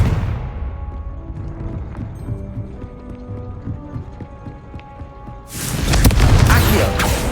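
A Confringo explosive spell blast in Hogwarts Legacy bursts out loud and broadband near the end, after several seconds of low, quiet in-game ambience and faint murmur.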